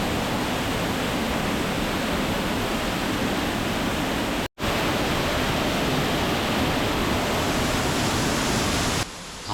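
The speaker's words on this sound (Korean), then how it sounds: "아라마루 휴게소의 아라폭포" Ara waterfall at the Aramaru rest area pours in a loud, unbroken broadband roar, close and constant, with one brief cut near the middle.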